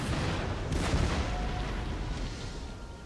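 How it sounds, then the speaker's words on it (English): Cannon artillery fire in a battle in the video game Empire Total War rolls as a dense, continuous booming rumble, with heavy overlapping blasts filling the background throughout. "I'm going to open fire on them with my cannons."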